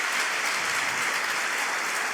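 Audience at an author talk breaking into applause, a brief, even burst of many hands clapping.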